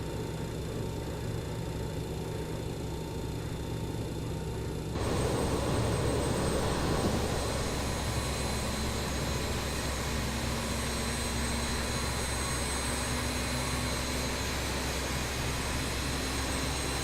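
Four jet engines of a BAe 146 airliner in Microsoft Flight Simulator, a steady broadband roar that jumps louder and brighter about five seconds in, then holds a sustained whine and rumble with no talking.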